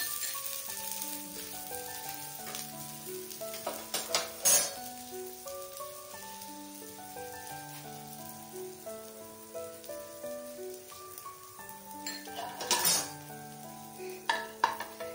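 A cabbage paratha fries in oil on a pan with a continuous sizzle, interrupted by a few sharp crackles and clinks as it is handled, while soft background music plays underneath.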